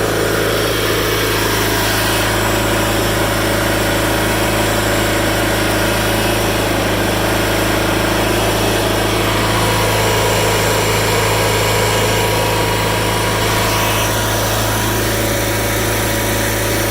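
A 1987 John Deere 318 lawn tractor engine runs loud and close, a continuous steady drone with a constant hum that holds unchanged throughout, no voices.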